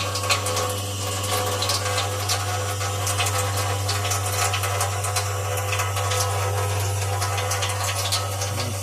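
Water runs continuously from a fully opened reverse osmosis faucet on an under-sink system, a steady hiss and splash over a constant low pump-like hum, unchanging throughout.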